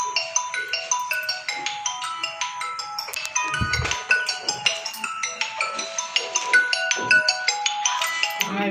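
A bright, repeating electronic ringtone melody plays steadily, its chiming notes looping without pause.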